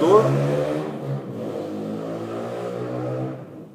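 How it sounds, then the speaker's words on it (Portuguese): A motorcycle passes by outside, its engine a steady droning hum that swells and holds, then fades as it moves off. It is heard alone at moderate volume. "passou uma moto aqui agora"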